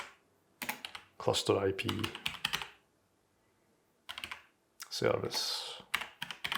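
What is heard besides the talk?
computer keyboard typing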